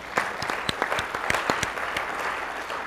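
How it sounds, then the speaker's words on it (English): An audience applauds the Malaprops booksellers at the Blue Ridge Bookfest, a steady wash of many hands clapping with sharper individual claps standing out, close and full throughout. "We ought to give them a round of applause"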